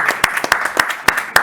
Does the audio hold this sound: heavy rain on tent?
no